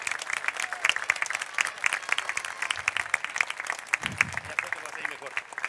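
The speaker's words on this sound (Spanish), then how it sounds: "Un fuerte aplauso." Steady applause from a crowd, dense clapping filling the whole stretch, with a brief low rumble partway through.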